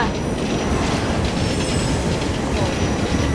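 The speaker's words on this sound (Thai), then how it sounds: "โอ้เสียงรถไฟมาเสียงรถไฟมา" A train rumbles past in Assassin's Creed Unity near the Eiffel Tower in Paris, a loud steady roar with faint squeals throughout.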